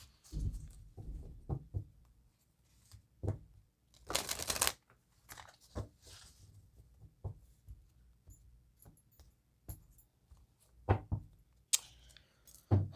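Enchanted Map oracle cards being shuffled close by, in irregular bursts of papery riffling and soft slaps with quiet gaps between them, no talking.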